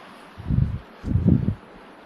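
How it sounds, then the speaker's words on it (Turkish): Strong wind on a beach buffets the microphone in two low, rumbling gusts, each under half a second, separated by a brief lull. "Bakın o kadar rüzgar var ki çöpler havalarda uçuşuyor"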